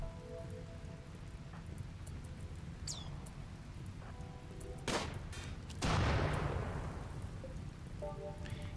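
Gunfire in the RimWorld colony-management game, a few sharp shots at about five and six seconds, the second followed by a long decaying burst over a steady rain-like hiss and soft game tones.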